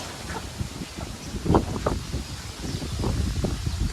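Outdoor wind rushes and gusts steadily against the microphone on a sunny day, with leaves rustling and a few faint bird or duck calls in the background.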